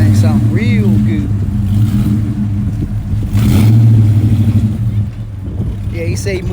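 A 1976 Chevrolet Malibu with a factory 250 cubic-inch straight-six and Chevy exhaust idles and revs nearby, with a steady low rumble that swells in the middle. Brief voices are heard now and then.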